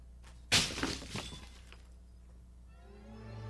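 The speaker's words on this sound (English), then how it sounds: "what happens when a cinder block is thrown at a quarter-inch plate glass window treated with 3M Scotch Shield" A cinder block strikes a quarter-inch plate glass window treated with 3M Scotch Shield security film, a sudden sharp crash and crack followed by a few smaller rattling impacts, then quiet with a low hum.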